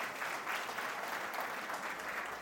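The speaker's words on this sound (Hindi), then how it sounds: "एक बार भोलेनाथ के नाम की भी ताली" An outdoor crowd at a Parshuram Jayanti gathering claps steadily and densely throughout, a loud, sustained wash of applause.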